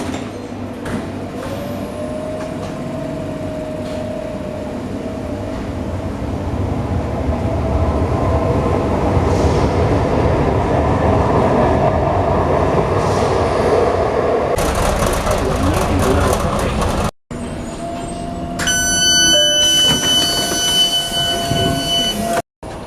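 A Tyne and Wear Metro train runs loudly for a long stretch, its rumble swelling as it gathers speed, then cut by brief breaks near the end, where high whining tones and clatter appear.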